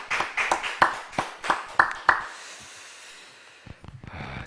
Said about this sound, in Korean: 하나님께 우리 영광의 박수 한번 올려드리겠습니다